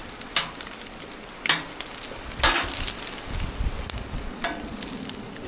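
Moose sausages and bacon sizzle on a Blackstone griddle at a Newfoundland cabin, a steady close crackle with a few sharper pops and scrapes.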